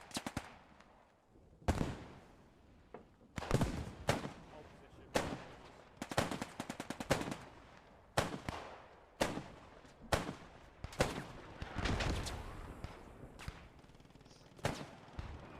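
An MG42 machine gun firing in Post Scriptum, loud sharp bursts repeating every second or two, some short and some longer rattling strings, each standing out clearly against a quiet background.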